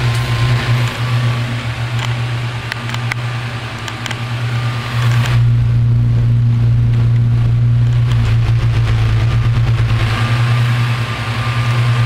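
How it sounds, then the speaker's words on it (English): A vintage Marvin window fan runs at speed with a steady, loud motor hum and rushing air, nearby and continuous, with a few faint clicks and a brief surge partway through. "Very powerful little window fan."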